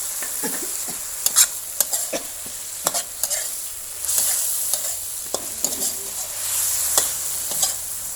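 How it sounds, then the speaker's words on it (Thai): Pork sizzles loudly as it is stir-fried in a pan for crispy pork basil, with repeated sharp spatula scrapes and clinks against the pan over a continuous close frying hiss. "เราจะใส่หมูต้องแบบผัดเลยนะจ๊ะ"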